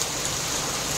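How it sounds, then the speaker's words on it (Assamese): Steady rain falls as a dense, even hiss of drops on surfaces, close and continuous for a brief moment in a forest during an elephant safari, with no voices. "বৰষুণ পৰি আছে"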